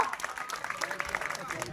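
Audience at a wrestling match clapping in a brief burst of applause, quick uneven hand claps under a speaking voice.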